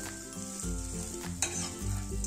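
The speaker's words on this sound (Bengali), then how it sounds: "আমি এপিট ওপিট করে হালকা বেশ লাল লাল করে ভেজে নিচ্ছি" Egg toast frying in a pan while being flipped, giving a close steady sizzle with a couple of soft knocks of the utensil against the pan.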